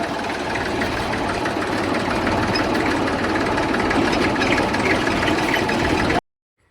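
A tractor engine runs steadily and loudly at close range in an orchard setting, a continuous low rumble with a knocking texture that cuts off abruptly at the end.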